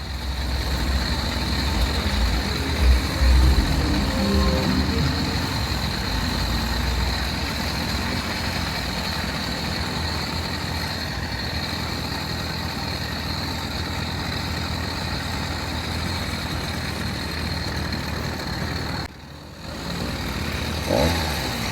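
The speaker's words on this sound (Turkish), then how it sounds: "Burada çok trafik oluyor arkadaşlar. Kötü bir trafik oluyor hem de." A motorized bicycle rides through heavy road traffic. A steady, loud engine drone and rumbling trucks and cars blend into one continuous roar, which briefly drops out near the end.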